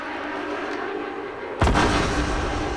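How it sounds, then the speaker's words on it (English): An incoming rocket in a video game strikes with a sudden deep boom about halfway through, followed by a rumbling blast over continuous gameplay noise. "There's a rocket coming."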